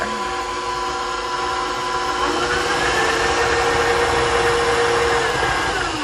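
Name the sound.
mixer creaming butter and sugar for chocolate chip cookies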